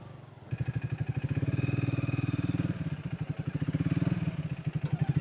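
A Triumph Speed 400 motorcycle idles close by with tappet noise, a steady pulsing single-cylinder thump overlaid with a rapid mechanical ticking clatter, running unbroken with no talk.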